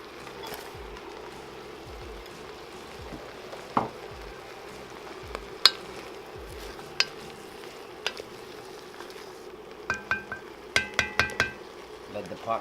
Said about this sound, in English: now we're going to go ahead and add our veggies in